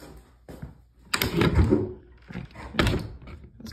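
A back door in a house basement is pushed open, scraping and thudding as it sticks on the floor, with a couple of close knocks and a drawn-out rubbing scrape in between.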